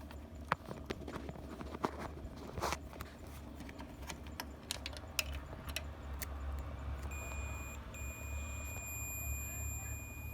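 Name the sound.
buzzer of an LG CRT TV being repaired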